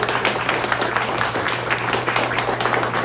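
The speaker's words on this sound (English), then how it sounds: "Can we just do a little round of applause," A crowd at the PAX East 2020 meetup claps in a steady, dense round of applause, fairly loud and sustained throughout, with no talk over it.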